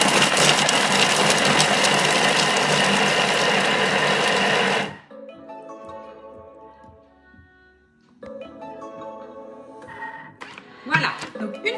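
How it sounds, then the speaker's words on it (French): A Thermomix kitchen machine chops vegetables into brunoise at speed 5, a loud steady whirring blade that runs for about five seconds and then cuts off abruptly, followed by quieter clinks and handling sounds. "Vous allez les mixer 5 secondes vitesse 5."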